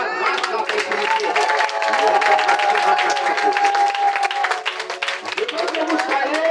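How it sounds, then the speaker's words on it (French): A church congregation claps and cheers in sustained, dense applause, while a voice carries on loudly over the crowd the whole time. "Acclamez pour la prospérité"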